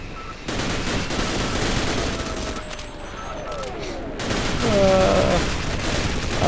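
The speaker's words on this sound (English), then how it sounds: "Oh no, ceiling turret." Rapid continuous gunfire from a ceiling turret in Half-Life Sven Co-op, a dense loud rattle of shots that dips briefly and then intensifies, close and unbroken.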